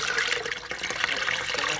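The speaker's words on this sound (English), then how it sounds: "And then I have a bigger syrup here, and I'm gonna pour it in here" Homemade ginger syrup for Jamaican ginger beer is poured from a larger container, a close, continuous splashing trickle of liquid lasting a couple of seconds.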